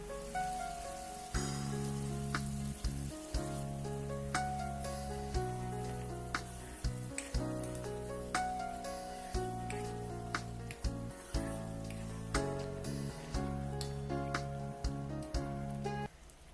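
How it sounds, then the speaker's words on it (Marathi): Spinach paste with garlic and turmeric frying in a pan: a steady hiss with crackling and spitting pops that recur throughout at a moderate level. "ही पेस्ट छान परतून घेणार. त्यात हळद टाकणार आणि मग त्यात पालकाची पेस्ट ॲड करणार"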